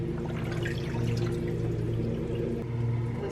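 Water poured from a container into a dish of pasta and marinara sauce for a chicken parmesan casserole, a continuous close splashing pour lasting a few seconds with no talking.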